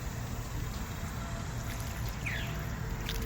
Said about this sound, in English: Yep, put some water in there.